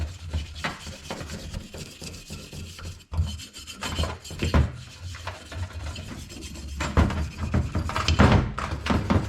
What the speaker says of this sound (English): So just giving that a better scrape out with my little wire brush here.